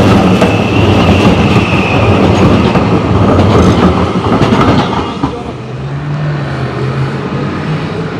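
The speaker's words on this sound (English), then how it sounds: "Oh, look at it, another classical tram is coming." A classic tram rumbles and clatters loudly past a busy outdoor market in The Hague, close by at first and then easing off toward the end.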